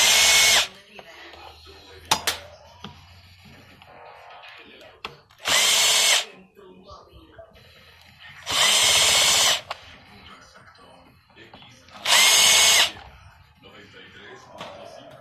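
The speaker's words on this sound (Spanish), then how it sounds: "Quitamos estos 4 tornillos con un desarmador de cruz o con su taladro o con una punta de cruz igual." Four short, loud whirring bursts from a power drill backing screws out of a Ryobi 2000 psi pressure washer under repair, separated by quiet pauses with small clicks and handling noises.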